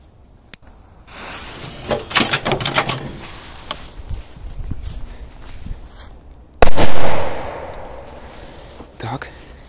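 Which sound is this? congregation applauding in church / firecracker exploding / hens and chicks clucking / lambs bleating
firecracker exploding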